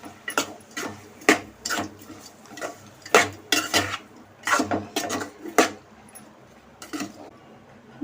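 Curry with salt and turmeric is stirred in a pan, the spoon clinking and scraping against the metal in a series of sharp, irregular strikes with quiet gaps between.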